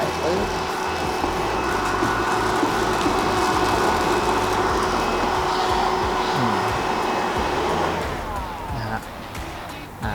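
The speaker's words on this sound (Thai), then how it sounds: "หรือจะใช้เครื่องดูดฝุ่นนะครับดูดเลยก็ได้" A vacuum cleaner sucking dust from an Anfim Pratica coffee grinder, giving a loud, steady whooshing roar that runs continuously before suddenly cutting out near the end.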